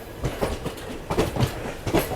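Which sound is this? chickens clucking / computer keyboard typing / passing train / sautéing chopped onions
passing train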